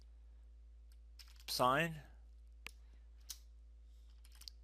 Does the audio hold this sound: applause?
no